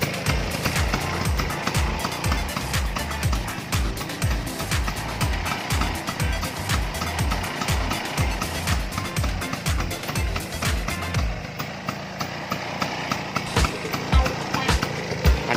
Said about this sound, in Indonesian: ini Vespa Sprint tahun 76 asbak